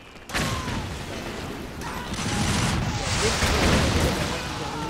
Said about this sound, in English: Gunfire going on now.